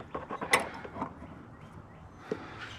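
Screws being driven in while installing a catch can on a 2024 Mustang GT, heard as a cluster of close mechanical clicks and ratcheting taps at the start, then quieter scattered clicks and faint handling noise.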